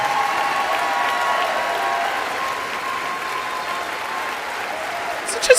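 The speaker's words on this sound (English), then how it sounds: "these people are clapping like normal" Audience applause at a political speech, a steady dense wash of many hands clapping throughout, moderately loud and unbroken, with a brief louder burst near the end.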